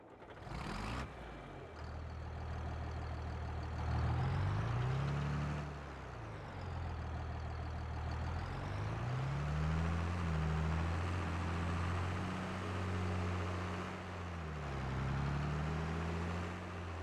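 A John Deere tractor fitted with floater tires in Farming Simulator 22 revs its engine, pitch rising and falling through repeated accelerations with a steady diesel drone throughout, fairly loud and close, with no talk.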